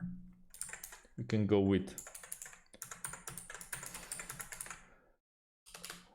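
Rapid, close clicking of a computer keyboard runs almost continuously, with a person talking over the first part before a short pause and a final burst of keystrokes.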